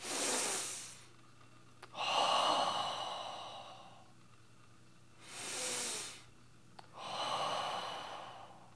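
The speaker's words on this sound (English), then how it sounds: "breathe in and let that stomach come out" Deep diaphragmatic yoga breaths, slow and close, each long airy inhale or exhale followed by a quiet pause, repeated about four times with no talking.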